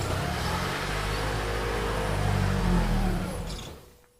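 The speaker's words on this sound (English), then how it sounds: "This car starts and runs with no 12 volt battery in it" Hybrid car running with its 12 volt battery disconnected, a steady close engine and motor drone that swells to a rev around the middle and then fades out.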